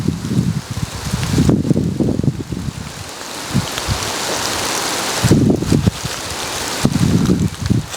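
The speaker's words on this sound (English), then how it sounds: "It's raining on me now" Rain falls outdoors at a back porch in New Orleans, a steady hiss of drops with wind gusts buffeting the microphone, close and continuous, with no talking.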